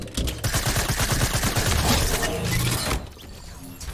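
Rapid gunfire in a shooter video game as a player shoots at a trap: a loud, dense burst of repeated shots for about three seconds that stops abruptly and leaves quieter ambience.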